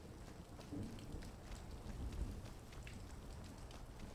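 Steady rain patters down in the Skyrim video game, a soft even hiss with low rumbling underneath, quiet and continuous throughout with no voices.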